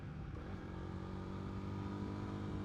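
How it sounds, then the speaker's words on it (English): Royal Enfield Guerrilla 450 motorcycle engine with induction noise from the airbox under the tank, a steady, full engine drone heard up close while riding. "There's an airbox here under the tank, which I think has been retuned a bit, so you can definitely hear some induction there"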